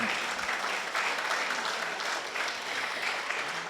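An audience claps steadily and evenly, a dense wash of applause held for several seconds as ghazal singers come onto the stage.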